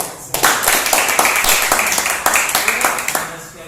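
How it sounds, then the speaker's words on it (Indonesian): A small group claps their hands together at the close of a group counseling session, a steady patter of near, loud claps with voices mixed in underneath. "Oke, tepuk tangan."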